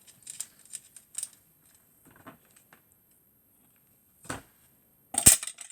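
Scissors make a scattering of short, quiet snips while trimming material for a handmade witch craft with a large wooden bead. A sharper clack follows near the end.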